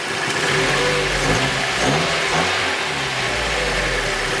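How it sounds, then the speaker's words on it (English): A Mazda MX-5 engine revving up from idle, rising and falling engine tones held steady and close, with no talk over it. "rev the engine"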